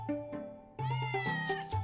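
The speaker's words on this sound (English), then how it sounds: "I was just playing hide and seek with the kittens." Lion cubs in a cartoon mewing like kittens, a few short high-pitched meows in quick succession, close and clear.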